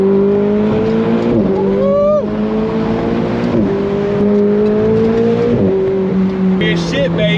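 A Ferrari 488 Spider engine revs loud and close from inside the car, rising and falling with sharp gear-change drops and climbing pitch, with talking over it throughout.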